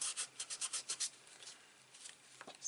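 Paper is rubbed by hand against a hardcover notebook during a craft project: about eight rhythmic, close scratchy strokes, then quieter scattered rubbing and a final brush, with no speech.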